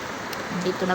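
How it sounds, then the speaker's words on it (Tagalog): Heavy rain pours down during a typhoon, a dense, steady hiss of falling water heard close by and without a break for under a second. "Lumalakas talaga yung ulan, guys."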